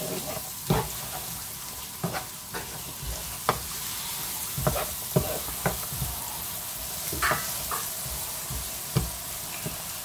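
Squid fries in a pan and sizzles steadily under repeated stirring scrapes and clacks, with soft background hiss and faint kitchen noise.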